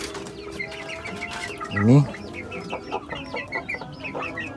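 Two young roosters, about three months old, cluck in a coop. Their soft calls are scattered throughout, with one louder, rising squawk near the middle, and a voice speaks briefly.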